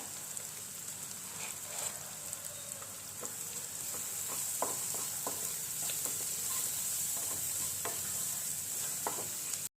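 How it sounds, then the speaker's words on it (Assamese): Continuous crackling sizzle of ginger and garlic frying in hot oil, with occasional clicks and scrapes of stirring, close and steady throughout. "এই আদা নহৰুখিনি দিয়াৰ পাছত তেল বিৰিঙিব ধৰিছে অলপ ভাজি ল'লোঁ"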